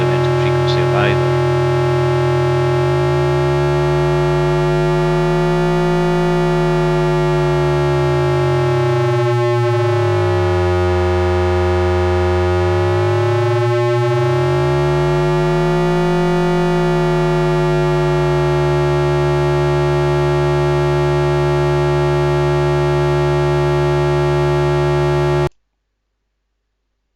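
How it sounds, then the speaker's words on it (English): Single sine wave oscillator driven into harmonic distortion, a steady electronic tone with a stack of overtones whose pitch sweeps and crisscrosses over time before stopping abruptly. "So that was a look at harmonic distortion on a single sine wave oscillator"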